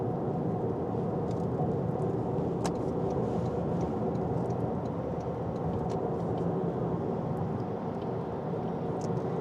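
A 2026 Toyota Corolla Hybrid LE sedan cruising at about 60 mph on the highway, with a steady engine drone blended with road and wind noise heard from inside the cabin, constant and unbroken throughout.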